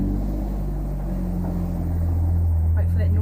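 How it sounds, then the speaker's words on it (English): A noisy car passes outside during a morning core workout, a loud steady low rumble that swells slightly toward the end, heard alone without talk. "wait for that noisy car to go."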